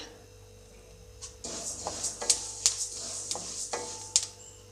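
Flax seeds crackle softly in a hot pan after the stove is switched off, with sparse light pops, faint sizzling and a few clinks of a stirring utensil against the pan, close by.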